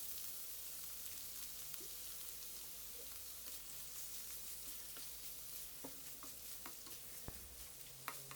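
Mussels and bell peppers sautéing in a pan with oyster sauce, giving a quiet, steady sizzle with a few faint clinks and stirring taps scattered through it, and no one speaking.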